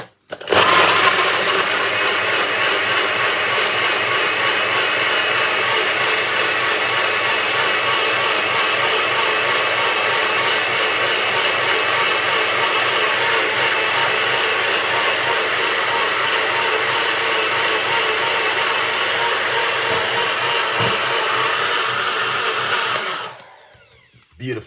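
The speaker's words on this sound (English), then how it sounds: "So I'm going to take it to the blend and I'm going to blend this, and then we're going to run it through our strainer" Countertop blender blending a drink of cucumber, lemon and ginger, a loud steady whirring roar that runs without a break for over twenty seconds before cutting off abruptly.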